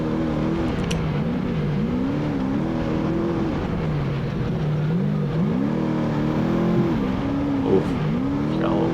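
An all-wheel-drive trophy truck races flat out through Baja 1000 silt beds, its engine a steady, close, loud roar whose pitch swells and dips with the throttle over a constant rushing noise, with no voices.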